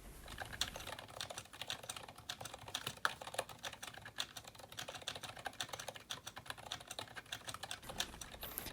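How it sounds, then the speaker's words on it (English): Continuous fast typing on a GK61 mechanical keyboard with lubed Zilent V2 switches and cheap clicking stabilizers. Quiet, close, rapid keystrokes patter along with occasional heavier key hits, and nobody speaks. "you can hear the cheap Chinese stabilizers clicking and clacking away as I hit backspaces and enters and space bars and typing"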